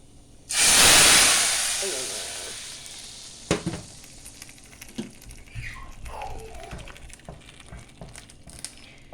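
Fried red chilies hit a pan of taro curry with puti fish, setting off a loud burst of sizzling that peaks then slowly fades, followed by a few stirring clinks and scrapes.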